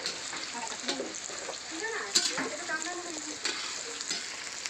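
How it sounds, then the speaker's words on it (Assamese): Bhut jolokia chillies fry in a pan with a close, steady sizzle and crackle, broken by scraping stirs; a voice talks faintly in the background. "জলকীয়া ভাজি বনাইছে দেই"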